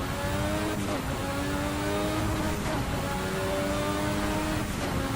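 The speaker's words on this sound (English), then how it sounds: "the slapping the throttle to keep the turbo spooled up" A 1986 Formula RSS V6 turbo race car revs hard in Assetto Corsa, the driver slapping the throttle to keep the turbo spooled; the loud engine roars steadily through the whole stretch with rising and falling pitch sweeps.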